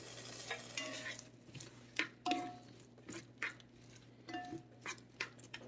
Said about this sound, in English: we're going to give this a quick little stir